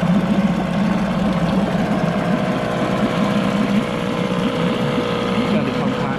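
A Johnson 4 hp Seahorse two-stroke outboard motor runs with its cover on, a steady, fairly quiet idle with a fast, even putter that stays constant throughout at close range.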